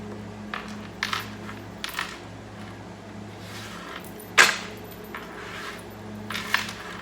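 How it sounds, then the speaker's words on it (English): A tarot card deck is cut and handled on a table, giving soft papery riffles and taps spread across several seconds, with one sharper snap near the middle; the sounds are quiet and close, with no talking. "I want to cut the deck."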